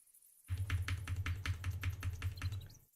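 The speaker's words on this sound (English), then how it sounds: "You guys can hear the keyboard?" Fast typing on a Drevo mechanical computer keyboard, a steady run of crisp key clacks for about two and a half seconds, close and clear with no talk over it.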